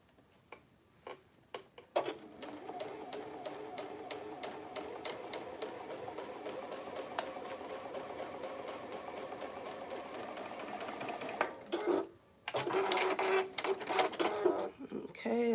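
A home sewing machine stitches fabric with a steady, fast mechanical ticking that runs for several seconds, briefly stops, then resumes, with a person talking around it.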